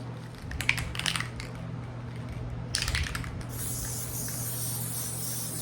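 Short hissing bursts from a spray can, two brief sprays, then a longer steady spray near the microphone over a low background hum.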